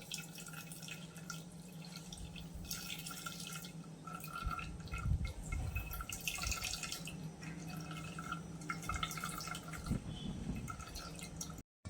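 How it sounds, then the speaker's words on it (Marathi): Liquid trickling and dripping steadily as ground tomato and coconut juice, coloured with beet, is strained in a kitchen for a traditional Konkan tomato saar, with no talk. "आता हे गाळून घ्यायचंय आपल्याला"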